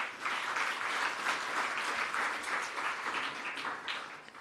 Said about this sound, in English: Maybe let's give a round of applause.